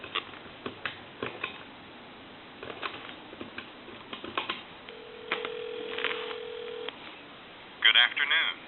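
A telephone on a regular line being dialed: a steady dial tone, then a series of short dialing beeps, with a voice talking over the line near the end.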